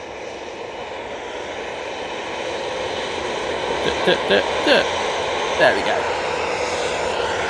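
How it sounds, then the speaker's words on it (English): A TUI Boeing 737-800 arrives at Manchester Airport with a broad, steady jet roar that slowly grows louder, while someone talks briefly over it near the end. "TUI 737-800 now coming on."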